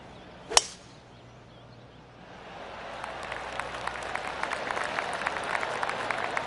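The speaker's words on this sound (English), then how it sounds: "I can hear the golf claps around the course" Light golf-course applause in the video game PGA Tour 2K25 swells from about halfway through and holds as a steady spatter of distant polite claps, after one sharp click near the start.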